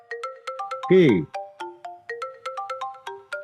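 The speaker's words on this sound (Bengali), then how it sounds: "এতক্ষণ ধরে ফোনটা বাজতেছে," A phone ringtone plays a repeating melodic chime pattern of bright tones, interrupted once by a brief spoken word, then continuing steadily and clearly.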